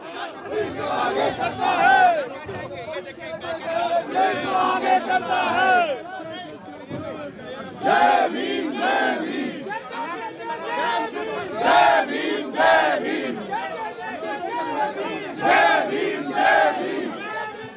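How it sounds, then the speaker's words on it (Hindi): A large crowd chants and shouts slogans in loud rhythmic bursts, voices rising and falling together in steady waves throughout. "नारेबाजी आप सुन सकते हैं कि किस तरीके से पुलिस के खिलाफ भी यहाँ पर नारेबाजी की जा रही"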